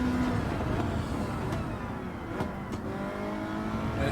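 A Toyota GR Yaris races in the video game Gran Turismo 7, its engine droning loud and steady with shifting whine as it accelerates hard. A few brief transient clicks cut through the continuous close engine roar.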